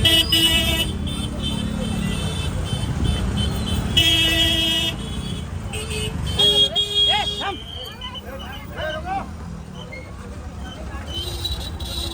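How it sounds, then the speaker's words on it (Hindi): Car horns honking in short repeated toots amid road traffic and a crowd at an illegal building demolition on Kausa–Shil Road in Thane, with people talking and shouting over them. "अरे हॉर्न नको वाजू रे"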